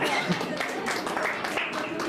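Audience clapping at a district chess association closing ceremony in Chamba, a steady wash of many hands under a continuous crowd murmur, filling the whole moment without clear gaps.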